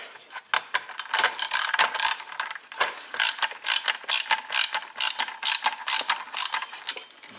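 Ratcheting screwdriver driving six screws into a Rainbow vacuum power sweeper, giving a steady run of fast, dry ratchet clicks in repeated strokes, close-up and alone.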